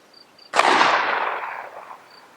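A single test shot from a Derya Metriva MC100 pistol fired outdoors, a sharp loud crack followed by a long rolling echo that fades over more than a second, with quiet surroundings before and after.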